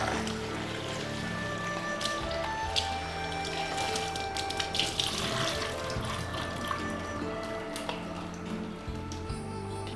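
A kitchen tap runs steadily while food is washed for a teriyaki chicken salad, a constant close hiss and splash of water lasting the whole stretch, with occasional clinks and splashes as items are rinsed.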